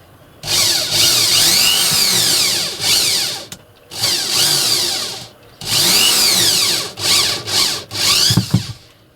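A power drill driving screws into the ceiling of an Iveco campervan conversion, with several long whirring bursts that rise and fall in pitch, separated by short pauses and ending in a few brief clicks and taps.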